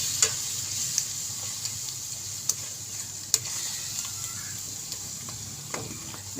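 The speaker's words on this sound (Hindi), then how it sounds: "तो ये तमाम स्पाइसेस मैं इसमें ऐड कर दूंगी और अब हम इनकी अच्छे से भुनाई करेंगे" Spices with tomatoes and chaat masala roasting in a pan, a continuous bright sizzle with scattered light ticks and clicks of a spoon stirring.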